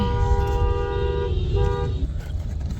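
Car horns honk in dense stop-and-go traffic in Saharanpur, a long steady toot holding for about two seconds over rumbling engines and street noise.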